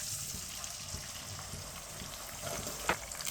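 Eggs being stirred into semolina frying in a pan for carrot halwa give a soft, close sizzle. Light scraping stir sounds run through it, with one sharper scrape near the end.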